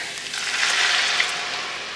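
Red wine poured into a hot pot of beef and flour gravy sizzles with a steady bright hiss that swells and then holds.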